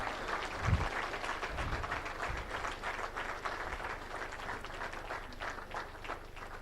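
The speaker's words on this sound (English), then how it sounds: "A round of applause for the colleagues." An audience at a launch event keeps clapping in an even, sustained round, with a few heavier low thumps early on, and no one speaks over it.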